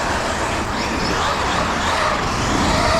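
A Traxxas X-Maxx RC monster truck driving by outdoors, a loud, broad rushing roar from its motor and tyres that holds steady and close throughout, with no talking.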